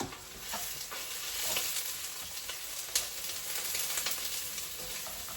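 Oyster mushrooms fry in a pan with a steady, close sizzle and scattered small pops and crackles throughout, one sharper spatter near the middle.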